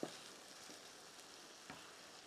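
Chicken and spread-out tomatoes in a covered pot begin to simmer, giving a faint, steady hiss and bubbling with a couple of soft knocks, no voices.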